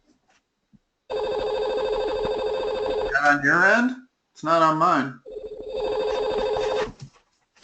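Telephone ringing during an online geometry tutoring call: a steady electronic ring in repeated bursts with warbling tones between them, with a person speaking briefly near the end.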